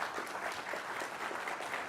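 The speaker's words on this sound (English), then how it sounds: "a big round of applause, Lyn St. James." An audience claps for Lyn St. James at a speaker series event, a steady wash of many hands applauding together, moderately loud and sustained with no voices on top.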